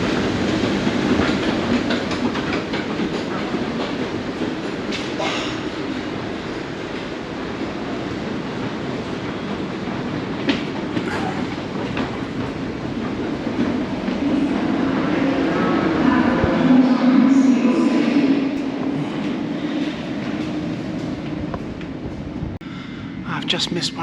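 London Underground Bakerloo line train running northbound, a steady loud rumble with rail noise that swells toward the middle, heard from inside or on the platform with constant background din.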